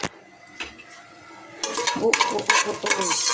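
Food goes into hot ghee and oil for zarda, sweet rice, and sets off a loud, rising sizzle after a quiet start, with metal utensil scrapes and clinks against the pan close by.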